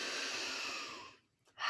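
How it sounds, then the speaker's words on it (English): A slow, deep breath drawn in during seated yoga practice, steady and close for over a second, then trailing off into near silence before a fresh inhale begins. "Let's sit tall and arrive here with a full breath or two."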